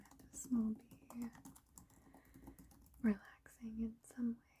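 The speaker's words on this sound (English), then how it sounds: "I personally love keyboard sounds" Light computer keyboard typing with irregular key taps, mixed with soft whispered or quiet speech that comes in short bursts throughout.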